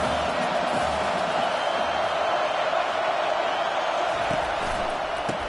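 Football stadium crowd roaring in support of the defense before a big third down in a playoff championship game, a dense continuous wash of distant cheering that holds steady throughout.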